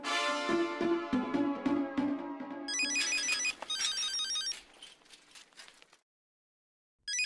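A phone rings with a bright electronic ringtone melody over a busy, rising tone, then cuts off into silence before a brief sound returns.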